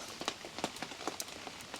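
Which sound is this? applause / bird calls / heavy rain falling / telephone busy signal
heavy rain falling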